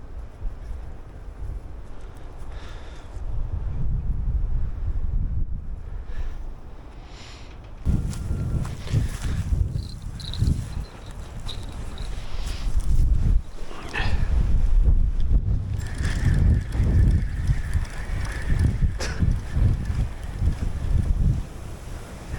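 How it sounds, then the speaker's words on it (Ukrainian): Strong winter wind at a pond roars and buffets the microphone in heavy, continuous gusts, with occasional thumps and rustling beneath it. "Просто вітер. Жесть. Просто з ніг збиває."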